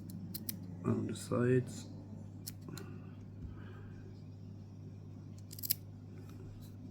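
Scissors snip fly-tying thread while a grey seal shrimp fly is tied, a couple of quick close cuts heard under quiet talk, with small handling clicks around them.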